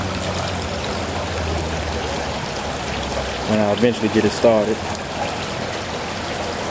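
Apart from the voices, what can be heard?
water flowing from fountains in a garden store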